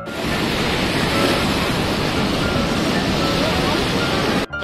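Water rushing and spilling at Siddheshwar Dam, a steady, loud broadband roar heard up close that holds almost unbroken before cutting out sharply near the end.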